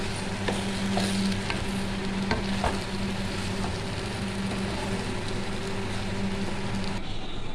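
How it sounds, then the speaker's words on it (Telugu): Rice is stirred into a sizzling green mango and methi leaf mixture in a hot pan, a steady frying hiss with soft scraping strokes of the spoon, close and even throughout. "ఇప్పుడు రైస్ వేసుకుంటున్నాను. బాగా కలుపుకోవాలి"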